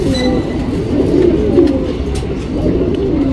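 A male Cheeni pigeon with gold-shade eyes coos close by in a low, rolling, continuous murmur, steady and fairly loud throughout.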